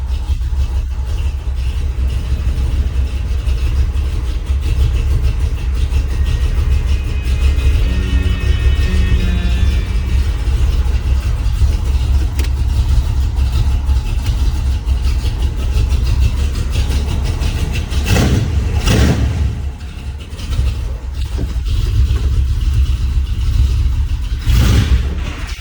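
A 1979 Ford F150 truck engine runs at a steady, rumbling cold idle, loud and close throughout, with a brief dip and a couple of light revs late on.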